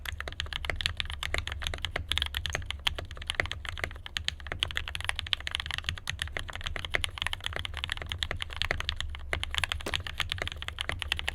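Steady rapid typing on a custom KBDFans acrylic Tofu65 mechanical keyboard with Durock JWK Purple switches, dense close clacky keystrokes in a continuous even stream with a low hum beneath, no voices.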